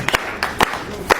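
A few scattered claps from an audience at a car handover ceremony, four or five sharp separate hand claps over a second, close and sparse rather than full applause.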